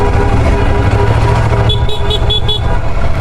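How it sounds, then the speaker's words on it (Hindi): A car horn toots in a rapid series of short honks over the steady rumble of nearby traffic in Canada. "मैंने भी हॉर्न बजा दिया, बहुत दिनों से बजाने था।"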